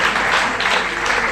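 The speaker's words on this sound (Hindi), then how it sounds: "जबरदस्त तालियां" A short, loud burst of audience applause rings out at a seminar, a dense wash of clapping lasting just over a second with no voices on top.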